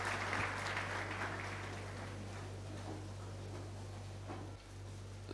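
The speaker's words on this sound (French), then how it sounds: "Acclamons la parole du Seigneur." Church congregation applauding, a dense steady wash of clapping that holds for several seconds before thinning slightly, heard at a moderate distance over a low steady hum, no speech.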